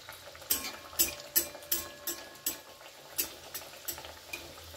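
A breakfast snack fries in a pan while a utensil stirs and scrapes, giving repeated sharp clinks roughly every half second over a soft steady sizzle.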